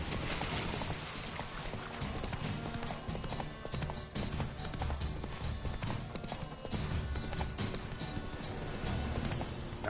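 Roach, the horse in The Witcher video game, gallops with rapid rhythmic hoofbeats over thick game music and ambience, loud and continuous throughout.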